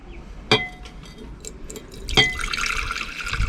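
Liquid solution poured off a settled layer during gold recovery from gold corner BGA backs, with two sharp glass clinks followed by a steady close pour and trickle.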